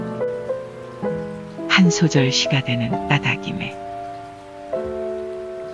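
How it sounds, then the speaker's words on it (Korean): Steady rain falls behind gentle music, with a voice reciting poetry over the soft, continuous patter. "당신 닮은 저 빗소리가"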